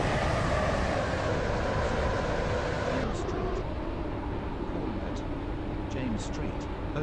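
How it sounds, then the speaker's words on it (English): Three-coach train on the James Street line of the WaterLine rolling toward Stepford Airport West station, a loud continuous rumble and hiss that eases slightly partway through, with faint squeals and clicks. "This train is now approaching Stepford Airport West."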